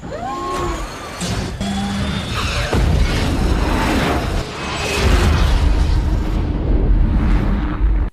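A loud, rumbling blast builds and rolls on for several seconds, heavy low booms mixed with debris and scattered crashing, with no speech; a film explosion from a nuclear strike on an alien ship.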